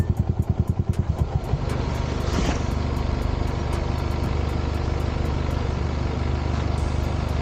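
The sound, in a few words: motorcycle riding and braking on a street in Japan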